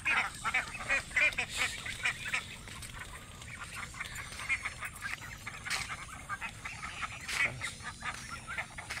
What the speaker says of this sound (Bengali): দেখেন এক ঝাঁক হাঁস আসছে